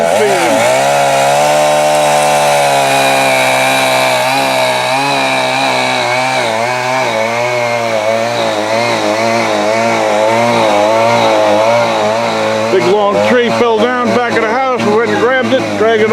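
A chainsaw cuts firewood close by, its loud engine snarl rising and falling as the bar bites through logs, continuous throughout, with a rougher, choppier stretch near the end.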